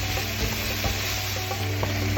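Fenugreek chicken (murgh methi) sizzles in a pan as it is stirred. The frying crackle is steady and close, with soft scraping clicks from the stirring.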